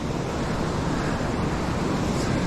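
Rushing water from an Upper Michigan waterfall fills the air with a loud, dense, continuous roar, steady throughout with no voices.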